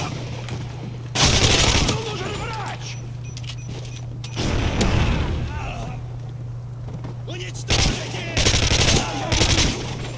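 Automatic gunfire in Call of Duty MW3, loud rapid bursts coming in several separate volleys over a steady background hum, with a voice talking in between.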